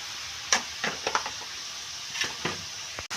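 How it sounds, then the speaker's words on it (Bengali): Spice paste being sautéed and stirred in a pan for a Bengali pabda fish curry, with soft sizzling broken by a few irregular scraping and stirring clicks, heard up close without talk. "মশলাটা একটু কষিয়ে নেব"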